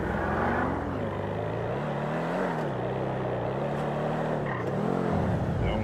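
A car's engine revs and accelerates, the pitch rising and dipping in waves as it pulls harder, close and steady with no talk over it.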